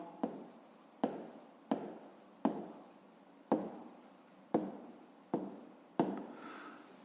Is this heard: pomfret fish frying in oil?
no